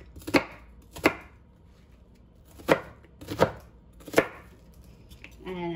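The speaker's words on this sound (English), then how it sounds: "the onion, I'm just going to dice up real quick" A knife dices an onion on a cutting board, five distinct sharp strikes in an uneven rhythm, close and clear against near silence.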